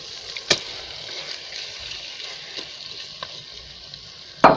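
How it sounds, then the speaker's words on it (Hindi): Chicken pieces fry with green chilies for chicken karela in a steady, close sizzle, broken by a few sharp scraping stirs and a louder clatter at the end. "गोश्त को थोड़ी देर के लिए भून लें"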